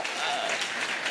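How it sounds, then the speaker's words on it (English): Congregation applause at a Sunday Mass homily, a brief steady wash of clapping throughout without breaks. "Big round of applause for that great question right there."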